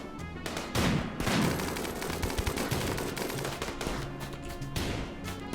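Rapid bursts of gunfire crackle through a RimWorld battle, overlapping shots and automatic fire in dense, sustained volleys.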